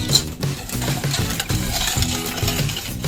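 Chocolate chip cookie dough is mixed in a bowl, producing continuous close, loud scraping and stirring with rhythmic thuds and clinks of the utensil.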